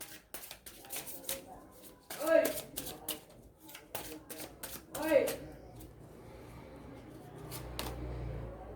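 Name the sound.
tarot cards being shuffled and drawn from Chakra Wisdom deck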